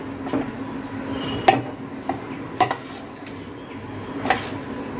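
Fried rice being tossed with chopped coriander in a pan: a spoon scrapes and clinks against the metal several times at an irregular rhythm, close and moderately loud over a low background hum, with no one speaking.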